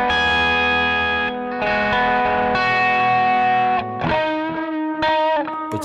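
Electric guitar runs through a TC Electronic Plethora X3 pedal set for delay and reverb, playing sustained notes and chords with echoing tails and a slightly distorted edge, loud and alone with no voices.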